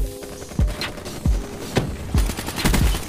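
A KN-44 rifle fires in the video game Black Ops 3: five or six sharp, loud bursts spaced roughly half a second apart, each with a booming low thump and crackling tail.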